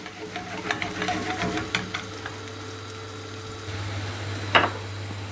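Onions sautéing in a pan give off a soft, steady sizzle with light stirring clicks, and a brief louder scrape comes near the end.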